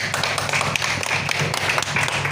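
An audience at a Berhampur seminar meeting claps together in a dense, steady patter of many hands that fills the room at an even level, with no talk over it.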